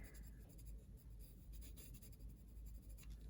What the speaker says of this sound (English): I'll increase the pressure with my pencil as I come down the length of this little stem here